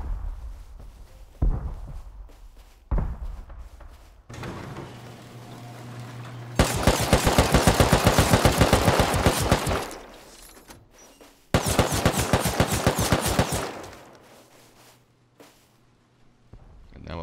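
Auto turrets in the Rust tower defense game fire in two loud, sustained rapid bursts of automatic gunfire, with quieter clicks, thumps and a low hum between them.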